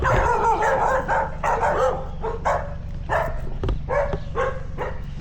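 Several dogs bark close by in Suva, Fiji, in rapid, overlapping bursts, with a few higher yips mixed in over a low background hum.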